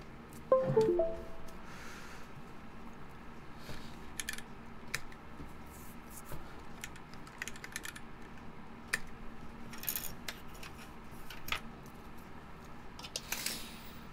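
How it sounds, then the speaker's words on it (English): Sparse, quiet clicks of keys being typed on a mechanical keyboard with unlubed switches, irregular taps spread across a faint background hum. "these switches are unlubed. I'll lube them after a week, so let's give you guys a little typing sounds"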